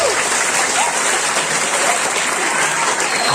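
A large student crowd applauds at a high school anti-drug talk. The clapping is loud, dense and unbroken, washing over the room at an even level throughout.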